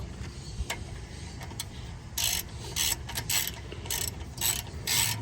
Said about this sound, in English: Just using your 13mm. Tighten the bolt.